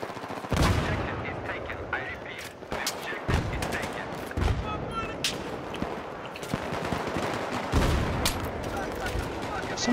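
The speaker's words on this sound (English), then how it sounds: "Somebody's shooting me and they're not even anywhere near me." Battlefield 3 gunfire in Scavenger mode on Markaz Monolith, with sharp repeated shots and bursts of automatic fire scattered throughout, some loud and close, others distant, under a dense mix of game noise.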